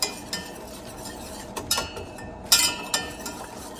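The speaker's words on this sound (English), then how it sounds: "you want to go ahead and start whisking it with a wire whisk" A wire whisk scrapes and taps against a pan while flour and butter are stirred into a roux, quiet metallic clinks and swishes with a few sharper knocks close by.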